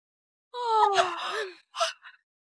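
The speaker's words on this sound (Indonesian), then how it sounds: "aku cuma menguap" A person gives one long, drawn-out voiced yawn that rises and fades, followed by a short breathy exhale, close and clear in a quiet room at night.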